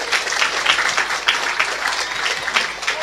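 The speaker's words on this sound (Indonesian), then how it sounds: "Tepuk tangan dulu buat semuanya." A mosque audience applauds steadily, a dense, even wash of many hands clapping at moderate volume with no voices over it.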